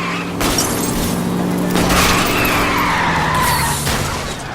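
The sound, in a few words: car skidding as it is rammed and spun out, L.A. Noire video game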